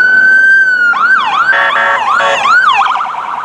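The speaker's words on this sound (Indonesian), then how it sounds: "mainan yang terakhir mobil ambulans teman-teman" Toy ambulance siren, loud and close: a steady electronic tone that switches into rising-and-falling wails, then a fast warbling pattern near the end, with no talking.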